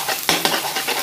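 Glass noodles stir-fried in a hot pan, a loud close sizzle broken by quick scraping strokes of a spatula.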